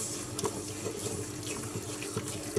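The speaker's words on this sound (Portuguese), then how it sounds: "E vou juntar água quente, que é para escaldar um bocado esta farinha." Hot water poured onto corn flour in a bowl while making Portuguese cornbread (broa), a steady close trickle and splash running throughout with a few small knocks.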